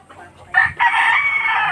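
Texas gamefowl rooster on a rural farm crowing once, loud and close, a short broken opening followed by a sustained strained call that carries to the end.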